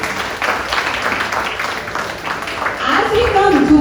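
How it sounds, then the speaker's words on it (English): A school audience at a children's Independence Day celebration applauds, a scattered wash of clapping mixed with talk and crowd noise, growing fuller toward the end. "Let's give everyone a big round of applause."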